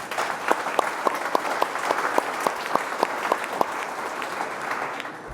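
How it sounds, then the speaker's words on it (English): Audience applause at an IMSA sports car racing presentation, a steady clatter of many hands clapping with no talk over it, holding at even strength until it tails off near the end. "I think that's worth a round of applause"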